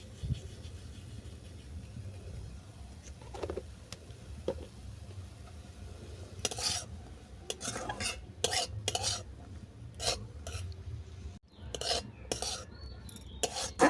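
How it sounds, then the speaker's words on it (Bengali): Sweet potato pieces fry in a pan with a low, steady hiss while a utensil stirs and scrapes in rapid bursts, mostly through the second half. No one speaks. "রাঙালু দু মিনিট ধরে ভাজা হয়ে গেছে"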